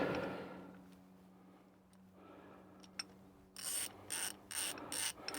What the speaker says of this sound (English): Let's get this tightened in before it decides to pop back out of it.